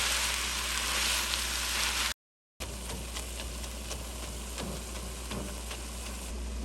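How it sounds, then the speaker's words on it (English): Ground meat for Bulgarian moussaka fries in a pan with a steady, even sizzling hiss, broken by a brief silent gap before it resumes at the same level. "We'll cook the meat really well until it is looks like crumbles."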